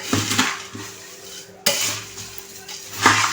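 Masala being stirred into maize poha chivda: a spoon scrapes and tosses the dry flakes in a pan in a few loud, rustling bursts separated by short pauses.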